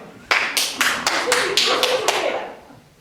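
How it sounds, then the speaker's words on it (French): A single performer on stage in a comic play claps their hands, about eight sharp close claps in a steady rhythm that fade out at the end. "J'applaudis."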